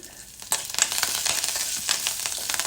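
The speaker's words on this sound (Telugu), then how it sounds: "చిన్న ముక్కలుగా చుంచుకొని వేగుతున్న పోపులో వేసేసుకోవాలి" Curry leaves, freshly picked and torn small, crackle and spit in a hot tempering of oil, a steady near sizzle with sharp pops that burst in clusters, no voices.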